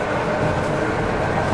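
A tram runs on its tracks in Belarus, giving a continuous broadband rumble and rattle of wheels on rail, heard steady and fairly loud from inside or close by, with no speech.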